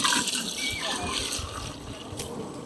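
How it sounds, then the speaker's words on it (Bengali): Water poured into a pot of boiled lentils and mango, a steady splashing, gurgling pour close by that fills the whole stretch with a faint voice underneath. "এবার দিয়ে দেবো আমরা পরিমাণ মতো জল"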